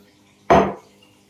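A knife cuts through a peeled potato on a board with a single short, sharp chop, a close, crisp impact with a brief tail in a quiet kitchen.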